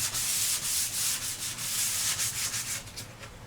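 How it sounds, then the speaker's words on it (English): Sandpaper rubbed by hand along the grain of an old wooden coffee table in long, even back-and-forth strokes, a close, loud, steady rasp with no talking. "I want to sand with the grain, so if I get any scratches, you don't notice them."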